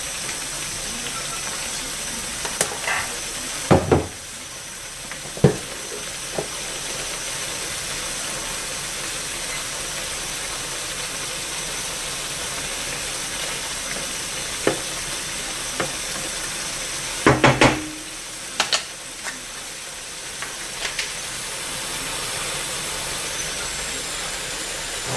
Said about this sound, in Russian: Пока вода вся не выпарится и грибочки не начнут жариться.